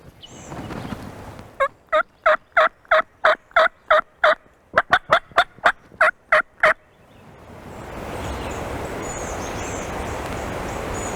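Wild turkey in Virginia or Georgia gobbling, a long run of sharp, rapid, evenly spaced loud gobbles close by, with a short pause midway, then fading into steady outdoor background noise.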